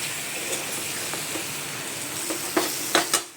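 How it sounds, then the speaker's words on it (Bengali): Potato, eggplant and pumpkin are stirred in a hot pan, giving a constant close sizzle broken by a few sharper scraping strokes toward the end, with no one speaking. "আলু বেগুন কুমড়ো দিলাম, দিয়ে এবার ভালো করে এইটাকে নাড়বো।"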